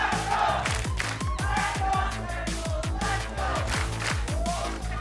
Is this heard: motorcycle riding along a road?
no